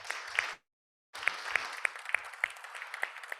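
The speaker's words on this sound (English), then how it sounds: "A round of applause." Audience applause at a SIWI science and policy seminar: a steady wash of many hands clapping, briefly cut to silence and then resuming loud and sustained.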